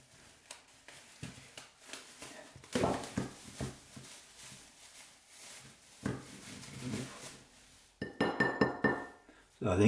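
Frozen sausage rolls knock and clink together, hard and solid, in a series of irregular taps and clatters, fairly faint and close, with a louder burst of knocking near the end.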